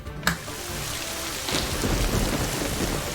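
A thunderstorm heard through an opened window: a sharp crack of thunder near the start, then steady heavy rain pattering on surfaces, growing louder and fuller after a moment, with no voices.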